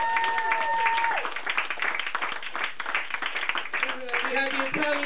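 A comedy-club audience claps and applauds in a steady wash of hands, while someone talks over it and bits of voice cut through near the end.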